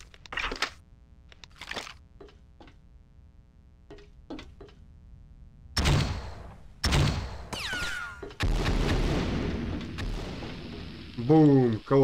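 Explosions and gunfire in the video game James Bond 007: Nightfire: several sharp cracks early on, then heavier booming blasts that swell into a rumbling roar, with a voice talking briefly between them.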